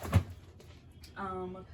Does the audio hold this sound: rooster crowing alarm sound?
no